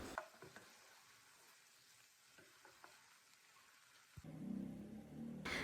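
Tomato and onion frying in a pan for a raw banana palya, a steady soft sizzle with a few stirring clicks, then a louder burst of sizzling near the end, no voices.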